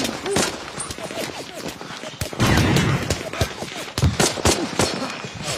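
Machine gun fire and dense bursts of gunshots from the Band of Brothers war film, loud and continuous, with bullets cracking past and scattered explosions, voices talking over parts of it.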